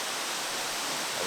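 Steady broadband rush of the waterfall at Cachoeira do Engenho Velho in Cocal, a continuous even roar of falling water heard alone at moderate level.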